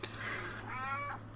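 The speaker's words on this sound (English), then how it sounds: "That's our kitty." A pet cat meows indoors, giving two drawn-out, fairly close meows one after the other against a faint steady hum, with no talking.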